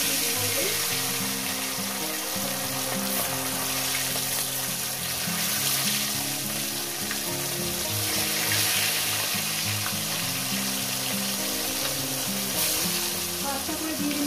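Small parshe fish frying one by one in hot oil, a steady close crackling sizzle with faint stirring and clinks running throughout, no talking.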